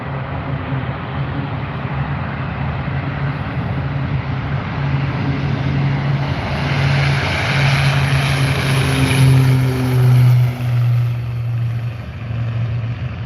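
Propeller-driven firefighting tanker aircraft taking off down an airfield runway, a loud, steady engine drone that builds slowly and swells as the plane rolls past, then eases off slightly toward the end.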